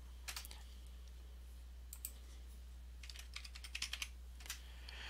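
Computer keyboard keys typed in short bursts while a password is entered, crisp close clicks in small clusters over a steady low hum, with no talking.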